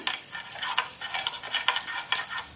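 Bread sizzling in butter in a hot pan for a crispy chicken sandwich, with a steady frying crackle and scattered brighter pops and scrapes, fairly close and continuous with no talking.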